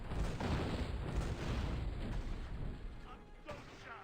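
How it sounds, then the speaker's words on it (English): Repeated cannon blasts from the video game Gun, fired in quick succession, loud and booming with a dense low rumble that thins toward the end. "An oddly quick to fire cannon."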